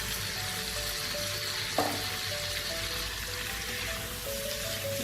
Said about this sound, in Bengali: এবার আমি ভিজে রাখা পটলটা আর আলুটা দিয়ে এটাকে কষাবো।